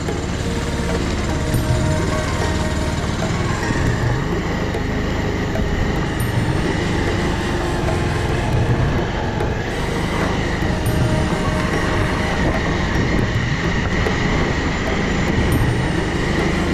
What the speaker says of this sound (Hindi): तो करते हैं अभी बाइक को स्टार्ट